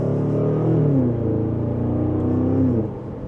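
A Range Rover SV engine pulling in second gear, a smooth, steady rumbling acceleration with rising tone, heard from inside the cabin and easing off near the end.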